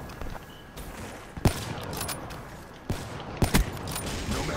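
Sniper rifle shots from Call of Duty: Black Ops III, a few sharp cracks standing out over a busy game backdrop, with two closely spaced reports near the end.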